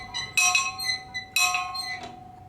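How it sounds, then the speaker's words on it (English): A bell at a slavery history museum in Willemstad, Curaçao, is struck twice, each bright metallic ring fading out, close and clear with no talk. "When the chief slave rings the bell, because he must obey the owner, he rings the bell, slaves must come."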